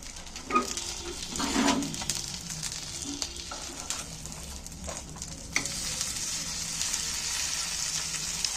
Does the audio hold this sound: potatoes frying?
yes